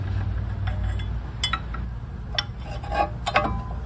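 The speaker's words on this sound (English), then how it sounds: "Remove the old brake pads." Worn brake pads with 70,000 miles on them are worked out of the front caliper of a Mercedes E350, giving several sharp metallic clinks and ticks at irregular moments, close to the microphone over a low steady hum.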